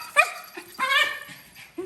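Small Yorkie dogs yip and whimper close by in a few short, high bursts separated by brief pauses, with no speech over them.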